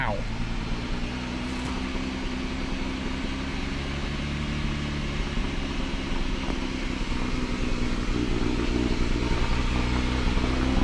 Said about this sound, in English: Definitely not idling the way she should be.